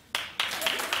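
A television talk show studio audience bursts into clapping. The applause starts abruptly, stops briefly, then swells again as a dense wash of hand claps.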